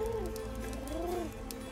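A messenger bird coos softly, with a couple of low rolling calls over a steady background hum in an old historical setting.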